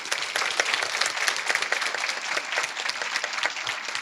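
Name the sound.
audience applause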